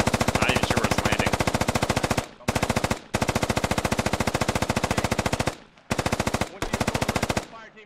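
A machine gun in a military video game lays down suppressing fire in long, rapid, loud bursts, separated by a few short pauses.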